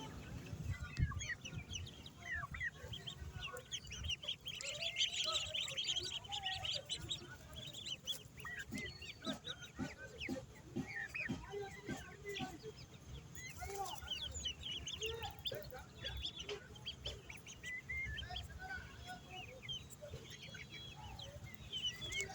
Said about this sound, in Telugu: బాతు పిల్లలు చూడండి ఎలా ఉన్నాయో.